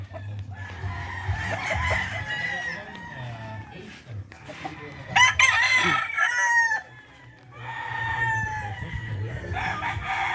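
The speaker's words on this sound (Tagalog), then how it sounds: "Ito yung mga manok na malapit na ilaban." Several gamecock roosters crow on a game farm over a steady low rumble of background noise, one call loud and close, others farther off.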